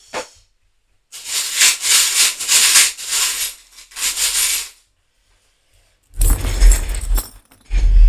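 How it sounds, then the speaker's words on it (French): Small metal charms, trinkets used for a tarot-style reading, are shaken and mixed by hand at a distance, giving several bursts of bright jangling and rattling separated by pauses, with a louder, closer rustle near the end. "je vais prendre les breloques et je vais mélanger à distance du micro pour pas vous irriter les oreilles"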